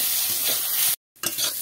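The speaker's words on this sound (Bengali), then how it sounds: "দিয়ে দেবো কিছুটা ধনে পাতা কুচি, দিয়ে একটু এইভাবে নেড়ে চেড়ে নেব" Fried potatoes tossed with chopped coriander in a pan, a spatula scraping through them over a bright continuous sizzle, cut by a brief silent gap before the scraping resumes.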